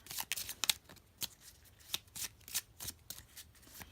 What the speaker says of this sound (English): just shuffle these so you guys can see how that goes